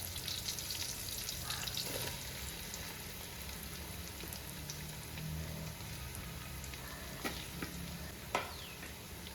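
Chopped ginger, garlic and shallots fry in a pan with a faint, steady crackling sizzle, broken by a few soft stirring clicks and taps, and no one speaking.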